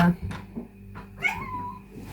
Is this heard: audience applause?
no